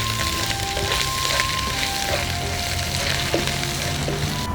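Coriander, red chili and turmeric powder frying in hot oil for a salmon curry, giving a steady close sizzle and crackle with no speech over it.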